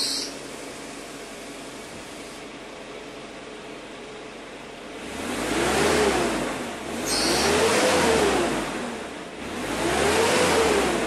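A 2005 Ford Ranger 2.5 turbo diesel with its standard exhaust idles steadily, then revs up three times in smooth swells, each rise and fall clearly audible up close with no talking.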